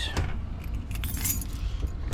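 Keys jangle and rattle briefly while a van door is locked, close and clear, with a faint hum of road traffic in the background.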